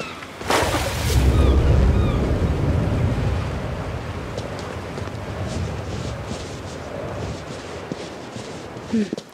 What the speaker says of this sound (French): Nage et pluie, pas un bon mélange.